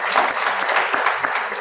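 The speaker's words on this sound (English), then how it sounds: "I think you should give yourselves a round of applause" An audience at a public speaking championship claps steadily in sustained applause, dense and fairly loud, with no distinct voices standing out.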